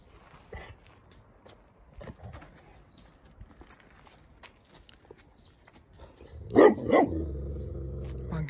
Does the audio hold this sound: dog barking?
yes